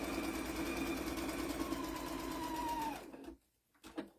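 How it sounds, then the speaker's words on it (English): A sewing machine hums and rattles steadily for about three seconds, then stops, leaving near silence and a faint clunk. "You gotta love your sewing machine."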